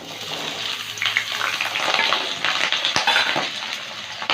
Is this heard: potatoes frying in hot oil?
yes